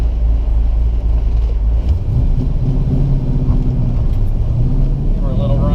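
A Mazda RX-7 FD fitted with a swapped LS V8 accelerating on a road run, its deep, steady engine rumble loud and close throughout, building slightly in pitch toward the end with no talk over it.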